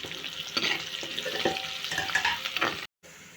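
Onions sizzle and fry in a pan with turmeric, a steady crackling hiss with occasional stirring scrapes, close up, then a brief cut to silence near the end.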